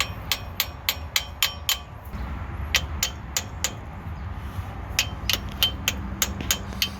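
A hammer taps a bushing into place during a transmission pan job on a 2002 GMC Sierra 1500 5.3L with a 4L60E, in sharp metallic strikes that come in quick bursts of several blows separated by short pauses.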